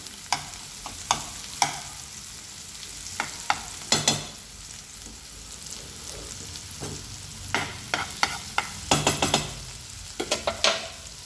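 Chopped tomato and onion fry in a pan for butter anda bhurji, with a constant sizzle broken by repeated sharp scrapes and knocks of a spatula, clustered in bursts, close and fairly loud with no talk.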